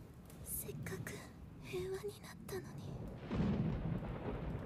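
A thunder strike sound effect from the Berserk anime rumbles low and steady, swelling into a louder broadband crash near the end, with a person talking quietly over it.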